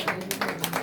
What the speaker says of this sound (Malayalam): കൈയടിക്ക.